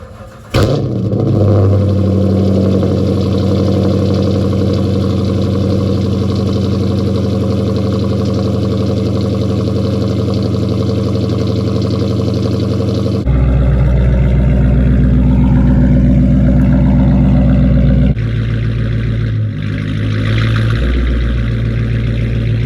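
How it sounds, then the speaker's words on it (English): Catless Dodge Challenger RT V8 cold start: a sharp crank and loud catch, then a deep, steady, rumbling idle, close and loud, with the tone shifting partway through and no talking. "We about to get this cold start / warm start started."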